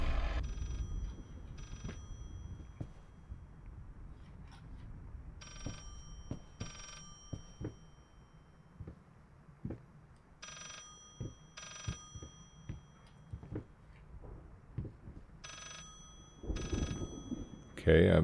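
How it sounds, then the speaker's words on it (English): In the horror game Layers of Fear, a telephone rings in repeated paired bursts with quiet gaps between them, moderately loud among footsteps and faint game ambience. "I'm sure I hear another phone somewhere here."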